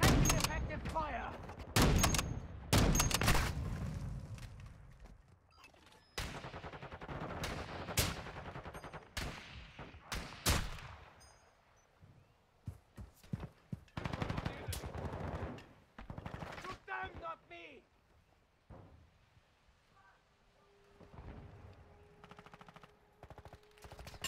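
Loud bursts of automatic and single gunfire in a Call of Duty: Modern Warfare 2 team deathmatch, rapid volleys clustered early then scattered shots, with in-game radio voices talking between the firing.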